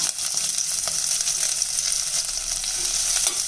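Continuous loud sizzling of onions frying in a pan, with faint stirring clicks, close and steady without voices.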